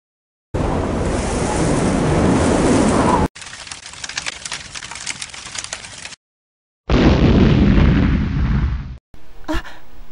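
Animated clash of wind and fire powers bursting together, heard as loud roaring blasts of rushing noise in separate surges, with a gusty crackling stretch between them and a final sharp burst.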